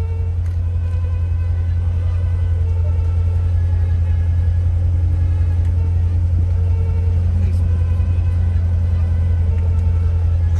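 Demon car engine held on an onboard dyno, a loud, constant low rumble with a slight buzzing edge, steady throughout with no rise or fall.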